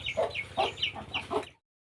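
A large rooster clucks in a rapid series of short, close calls, several throaty notes in quick succession before falling silent.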